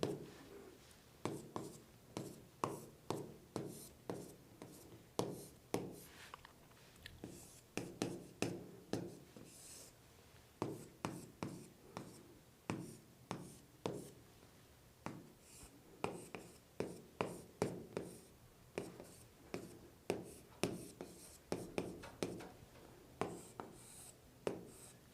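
Hand-drawing a circuit diagram on a board during a fire-protection electrical lecture on sequence control, a steady series of scratchy strokes and taps in quick repeated bursts, close and clear with no talk.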